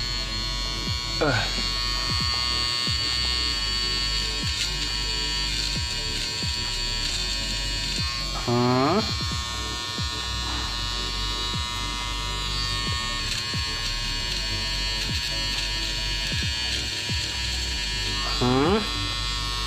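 A SONAR HP-300 electric nose hair trimmer hums continuously at close range, a steady buzzing motor that runs throughout while a person talks over it.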